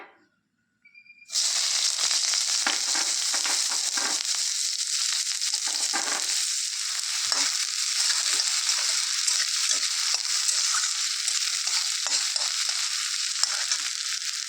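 Onions frying in a pan for aloo paratha, a steady loud sizzle that starts abruptly after a second of near silence and holds with crackling texture throughout.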